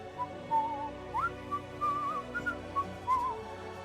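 Whistling from a character in the Morrowind video game, a short wandering melodic tune of several rising and falling notes over a soft game-music background, fairly clear with no talk.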